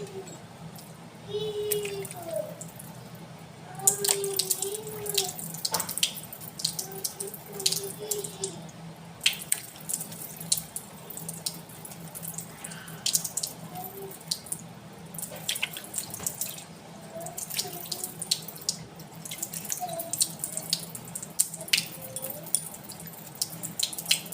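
Tap water runs and splashes in a sink as a face is washed, intermittent trickles and drips with quiet splashing handfuls, soft and close, no clear talk.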